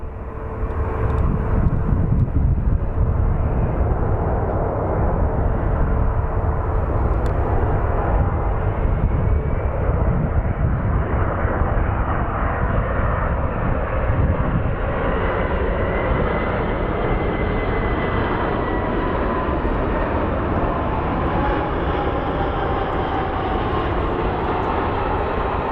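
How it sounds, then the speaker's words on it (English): MD-11 airliner touching down at Phoenix Sky Harbor International Airport, a loud continuous roar of engines and rushing air that holds steady throughout, heard from a spotting position without any voices. "Smoky touchdown by the MD-11."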